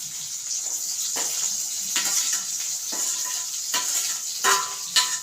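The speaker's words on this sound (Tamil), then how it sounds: "இனி நாங்கள் வெங்காயத்தை போடுவோம்." Onions hit hot oil in a home kitchen pan and sizzle continuously and loudly, with periodic scraping stirs punctuating the hiss and no speech over it.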